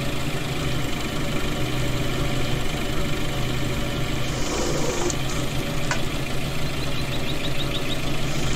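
A farm tractor idling steadily, a constant low mechanical drone with a couple of faint clicks and knocks over the top, moderately loud and unchanging throughout.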